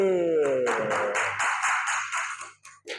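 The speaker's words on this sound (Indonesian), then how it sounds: "tepuk tangan untuk Ari" A classroom of students claps for a classmate during a lesson: a brief voice, then a run of quick, rhythmic claps that thin out and fade over a few seconds.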